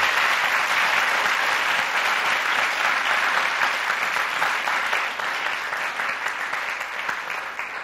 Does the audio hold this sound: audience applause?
yes